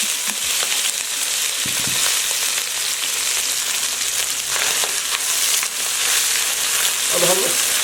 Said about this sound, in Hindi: अब हम चिकन को अच्छी तरह फ्राई कर लेंगे।